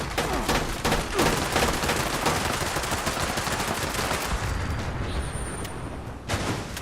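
Sustained gunfire in Fallout 76, a dense, loud stream of rapid machine-gun shots and blasts that runs almost unbroken, with no talking.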